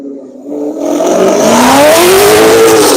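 A Chevrolet Camaro race car accelerates on a track at Nelson Ledges, its engine note climbing steadily from a low start to a loud, sustained roar that rises in pitch.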